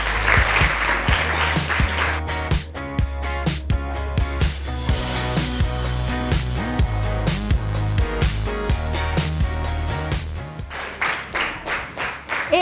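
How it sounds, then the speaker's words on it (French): An audience at a school contest applauds for over twelve seconds, a dense, sustained clapping with tonal music-like sounds underneath and a few faint voices. "Vous applaudissez quand même."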